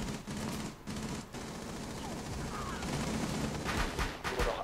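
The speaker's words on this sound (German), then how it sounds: "Die schießen durch die Wand." Gunfire through a wall in Rainbow Six Siege, a dense continuous rattle of shots with thumps, fairly loud and steady throughout, with a voice faintly underneath.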